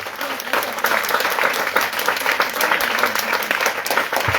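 A church congregation gathered for spiritual combat bursts into loud, sustained applause, with dense clapping from many hands throughout and a few voices mixed into the crowd.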